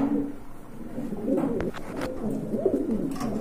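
Indonesian shoking pigeons, including a hen, coo in soft, repeated, throaty phrases close by, with a few short chirps mixed in over a steady backdrop of other birds.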